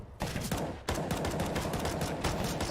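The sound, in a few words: CZ75 pistol gunfire in the video game CS:GO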